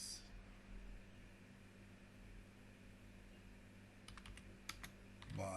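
Quiet computer keyboard typing, soft steady keystrokes over a faint background hum, with a few sharper clicks bunched near the end.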